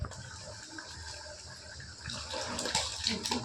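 Liquid poured into a pot of mutton curry being cooked with ground chana dal paste, a steady near splashing gush that swells and grows louder toward the end, with no talk.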